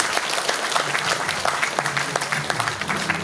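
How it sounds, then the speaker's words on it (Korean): Audience at a Pocheon humanities-city forum applauds continuously, a dense, steady wash of clapping from a crowd that fills the whole moment without a break. "다시 한 번 더 큰 박수 부탁드리겠습니다"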